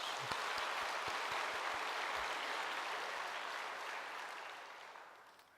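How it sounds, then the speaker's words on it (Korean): A church congregation applauds its praise team during an evening service, steady dense clapping filling the hall for several seconds before gradually thinning and fading toward the end. "우리 박수 한번 쳐주실래요?"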